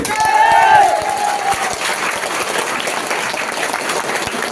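At a BNP political gathering, a crowd claps in a dense, steady patter of many hands. It holds evenly for several seconds with a voice briefly audible near the start.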